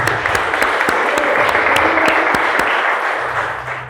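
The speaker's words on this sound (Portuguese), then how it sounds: "As palmas do Senhor." Church congregation applauding during a Portuguese-language worship service, a dense burst of clapping with a few sharp individual claps standing out, fading slightly toward the end.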